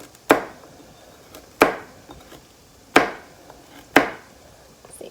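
Four separate knife chops through vegetables on a cutting board, each a crisp sharp strike followed by a short decay, spaced about a second apart, close and clear with no talk.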